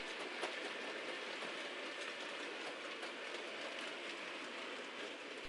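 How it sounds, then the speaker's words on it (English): A model railway train runs along its layout track past a junction, giving a quiet, steady rolling rumble with light, continuous clicking of wheels on rail joints. "You can see the train leaves the scenic section, runs across Middle Junction."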